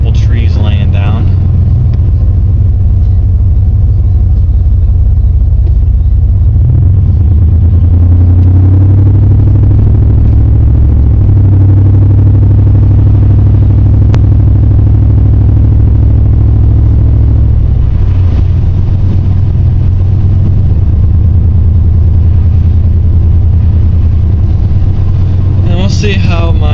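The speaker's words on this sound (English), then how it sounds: "See how my new catalytic converter on the truck does." A truck engine with a new catalytic converter drives on Chincoteague Island after Hurricane Sandy, a loud, steady low rumble recorded from inside the cab, rising as it accelerates in the middle and then settling.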